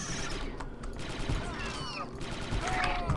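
Rapid gunfire in the Star Wars: Republic Commando video game on its hardest difficulty, a dense continuous crackle of shots with brief bursts, mixed with game effects and faint voices underneath.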